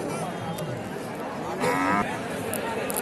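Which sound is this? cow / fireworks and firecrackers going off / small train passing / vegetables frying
cow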